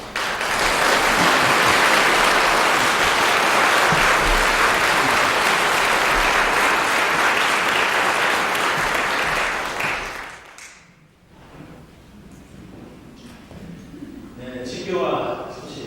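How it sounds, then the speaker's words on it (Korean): A church congregation at an Easter Sunday service applauds to welcome people just baptized and confirmed, a loud sustained round of clapping for about ten seconds that fades out, followed by quieter room sound and a voice. "인사할 때 여러분들 환영의 박수 부탁드리겠습니다"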